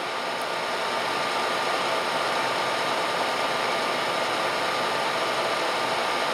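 Vertical milling machine motor running steadily with the quill feed engaged, a loud continuous broadband whir and hum holding constant throughout with no talking.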